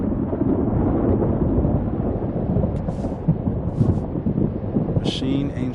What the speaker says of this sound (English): This storm... I've been through something like it before.